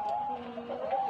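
A native village chicken (ayam kampung), recovering from illness, gives a soft, sustained throaty clucking call, close by and fairly quiet, lasting about a second.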